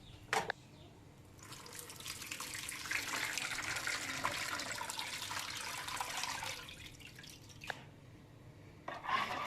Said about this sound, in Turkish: Biz normal plastik bir süzgeçle süzdük.